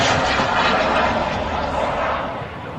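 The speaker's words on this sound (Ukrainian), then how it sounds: "От летить дрон." A drone flying overhead during wartime strikes in Ukraine: a loud, steady, close engine roar spreading across the whole range, easing off slightly near the end.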